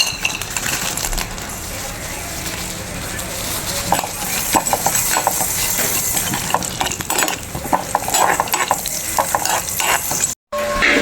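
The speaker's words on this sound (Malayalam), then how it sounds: "നമ്മളെ കശുവണ്ടി നമ്മൾ നെയ്യ് ഒഴിച്ച് ഒന്ന് ഫ്രൈഡാക്കി എടുത്തിട്ടുണ്ട്" Cashew nuts fry in hot ghee, a loud dense sizzle filling the whole stretch, with stirring scrapes and metallic clinks from the pan, cutting out briefly near the end.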